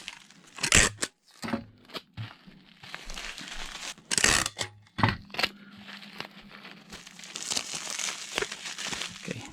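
Packing tape ripping off the roll and pressed onto a box of rolled-up items being packed for shipping: close crinkly tearing bursts and sticky crackles, several pulls with pauses between them.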